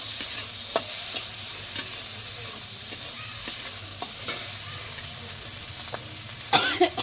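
Onions tipped into a hot pan for a Ghoti-style prawn and kalmi greens dish sizzle steadily, with a few sharp stirring clinks and scrapes over the frying hiss, close and fairly quiet.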